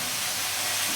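Amaranth greens hit a hot pan with browned garlic, onion and chilli, producing a steady, loud sizzling hiss that holds evenly throughout with no talking.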